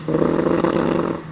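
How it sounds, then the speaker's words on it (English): A Triumph TR4 historic rally car's engine misfires and roars rough and loud at close range on the Oulton Park circuit, a steady throaty drone that fades slightly toward the end. "Bit of a strange misfiring sound from the TR4 there."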